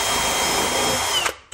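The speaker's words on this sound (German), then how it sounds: "Und jetzt werde ich vorbohren und die Schrauben hineindrehen." A power drill whirs loudly and continuously while pre-drilling screw holes in cabinet woodwork, then winds down abruptly at the end, close and with no voices.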